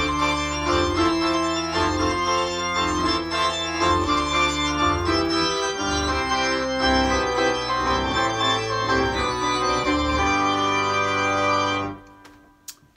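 Pipe organ playing Widor's Toccata, a dense, loud wash of rapid chords over sustained bass pedal notes, filling the space steadily before cutting off abruptly near the end.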